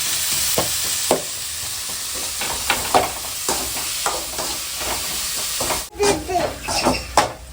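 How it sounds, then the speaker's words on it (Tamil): Onions sizzle steadily in a pan while a spoon stirs them with repeated scraping taps, a soft frying hiss running underneath and a louder clatter near the end, with a voice speaking quietly at times. "வெங்காயம் நல்லா வதங்கணும்"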